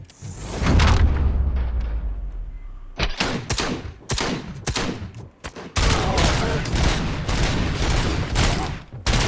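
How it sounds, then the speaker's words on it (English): Combat shotgun blasts in the video game RoboCop: Rogue City, a series of loud, sharp shots in quick succession over busy in-game combat noise, with short gaps between bursts. "see what the combat shotgun's like"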